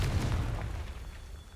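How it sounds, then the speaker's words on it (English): A Confringo fire spell detonates in Hogwarts Legacy, a deep low boom with a rumbling tail that fades over about a second and a half, fairly quiet overall with no voices. "Confringo! Wait, Confringo works on that?"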